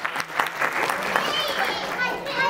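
Applause from an audience at an intercultural award ceremony, steady clapping mixed with crowd murmur and a voice.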